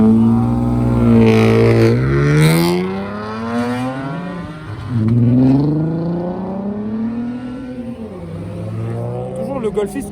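A BMW's engine revs hard at a car meet, pitch climbing and falling in several sweeping pulls with strong harmonics, loud and close, ending in a lower rev.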